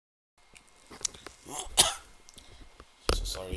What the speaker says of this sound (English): I'm getting a very bad cough